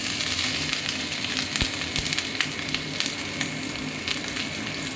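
Grated ginger with asafoetida hits hot oil in a pan, a loud, dense sizzle with spitting crackles and a few sharp pops, steady and close with no talking.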